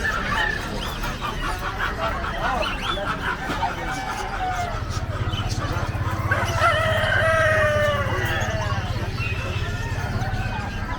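Several roosters crow at a busy gamecock market, overlapping and at mid distance over a steady crowd din and people talking.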